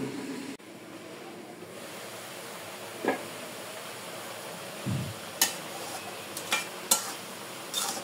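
Kolai greens being stirred in a cooking pot, a low background sizzle with a handful of scattered scrapes and clinks of a utensil against the pot, no talk.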